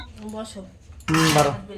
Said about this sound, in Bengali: এবার ভাত বাড়বো